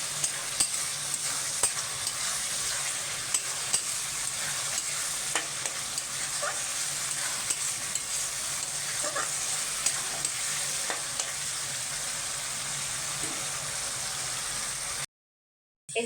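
Spice paste for a chicken curry of country hen cooked with its skin frying in a pan and being stirred, a steady bright sizzle with scraping stir strokes throughout, close and alone, cutting off abruptly near the end.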